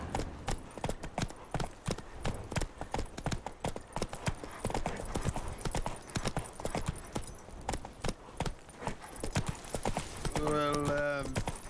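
Roach, the horse in The Witcher 3, trots with a continuous rhythmic clip-clop of hooves, close and moderately loud, ending with a short whinny.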